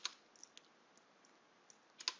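Light, sparse keystrokes on a computer keyboard, a handful of quiet clicks spaced irregularly with a cluster of firmer taps at the end, faint and close with no talking.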